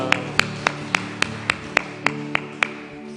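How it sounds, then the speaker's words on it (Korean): A church congregation at an outdoor Sunday service in the rain claps in unison, with about ten evenly spaced claps in a steady beat over sustained background music. "서로 박수로 축복하겠습니다."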